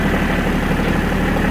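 Engine of a Bobcat 610 skid steer running loud and close at steady high revs, a continuous deep droning rumble with no talk over it.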